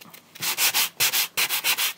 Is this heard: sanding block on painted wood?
yes